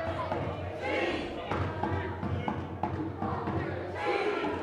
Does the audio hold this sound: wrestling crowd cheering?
yes